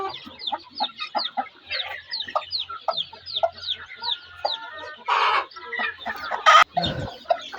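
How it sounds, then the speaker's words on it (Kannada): Country hens cluck in quick, close bursts as they are shifted from three baskets into one; rustling handling noises break in near the end. "ಈ ಎಲ್ಲ 3 ಬುಟ್ಟಿಗಳಲ್ಲಿ ಇರುವಂತಹ ಕೋಳಿಗಳನ್ನು ನಾವು ಒಂದು ಬುಟ್ಟಿಗೆ ಬಿಟ್ಕೊತಾ ಇದ್ದೀವಿ"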